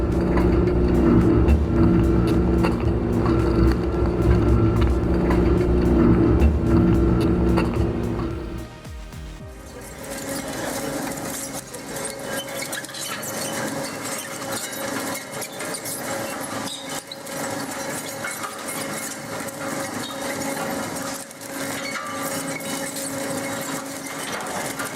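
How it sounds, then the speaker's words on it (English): A heavy, low-speed industrial shredder chips big chunks of licorice wood into a fluffy pile, droning with a loud, dense mechanical roar that drops suddenly partway through into a thinner, steady grinding whir with scattered cracks. "big chunks of licorice wood turn into a fluffy pile of chips"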